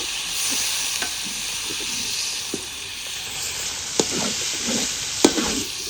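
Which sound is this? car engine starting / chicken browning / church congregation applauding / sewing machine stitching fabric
chicken browning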